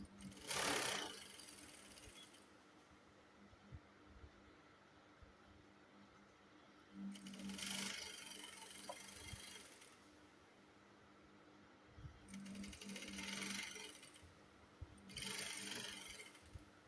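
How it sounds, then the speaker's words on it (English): A sewing machine stitching a velvet blouse from armhole to hem runs in four short bursts of rapid stitching, close and fairly loud, with quiet gaps between them. "You can see I'm sewing from the armhole all the way down to the hem."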